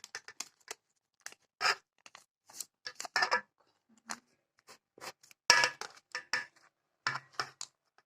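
Sharp, intermittent slicing and scraping clicks of a knife cutting through a moist baked jam pie, close by with short pauses between strokes.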